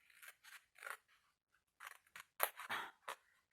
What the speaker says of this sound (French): Là, on coupe tout droit.